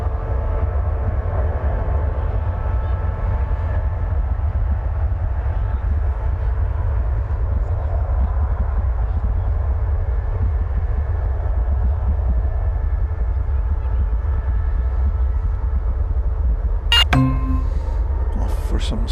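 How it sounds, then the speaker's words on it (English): Airliner departing DFW Airport on a flight to Buenos Aires, a steady, heavy low roar of jet engines holding for the whole stretch, with a brief higher burst of noise near the end. "But here goes the flight to Buenos Aires."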